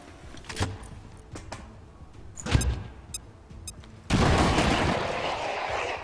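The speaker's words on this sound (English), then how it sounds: "An extended range grenadier grenade, please. Blow up this vial." A grenade blast in the video game XCOM 2 bursts loud and sudden after scattered game clicks and a few sharp shots, then roars on as a sustained rumbling explosion through the final two seconds, with no talking.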